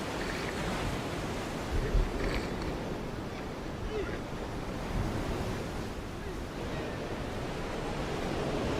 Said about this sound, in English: just overcoming the waves is tough